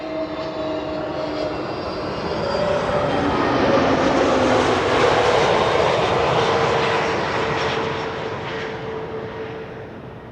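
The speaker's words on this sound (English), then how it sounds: "SAS flight 1553 arriving from Stockholm, A320neo." An SAS Airbus A320neo airliner lands at Schiphol's Kaagbaan runway after a flight from Stockholm, its engine roar swelling as it passes close by and then fading gradually.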